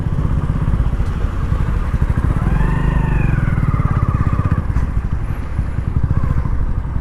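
A motorcycle ridden slowly over muddy ground while setting up a U-turn, its engine close and loud, chugging steadily with a slight rise and fall in revs and some clatter.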